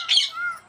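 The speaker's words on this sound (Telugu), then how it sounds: "అక్కడ మీద ఉంది అక్కడ ఉంది పెద్ద ప్యారెట్" A parrot gives one sharp, harsh squawk at a deer park, close and loud, fading into a short thin tail.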